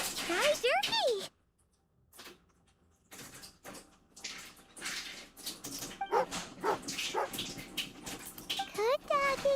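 A video game dog whimpers and yips in short, high whining bursts, with a quiet pause partway through and game chatter mixed in around the calls.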